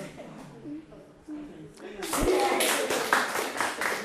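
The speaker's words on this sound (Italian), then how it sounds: "vi faccio l'applauso e vi faccio i complimenti davvero da parte di tutta la redazione" Studio audience applause on a TV quiz show bursts in after speech, a loud, dense run of clapping from many hands that holds for the last couple of seconds.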